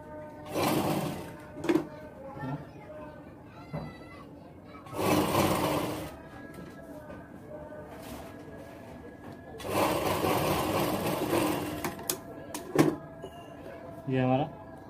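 A sewing machine stitches a baby girl's kurti in several short bursts of fast, whirring needle runs with pauses between, close and moderately loud, while someone talks between and over them.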